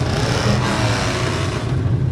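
A classic custom car at an evening cruise event runs with a steady, loud, rumbling engine and a continuous low drone, without any talk.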